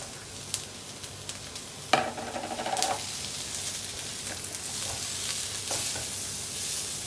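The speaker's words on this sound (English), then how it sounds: "I really love to hear the sizzling sound on the frying pan." Steady sizzling and crackling of onions and bell peppers frying in a pan, with occasional stirring clatters and a sharper scrape midway.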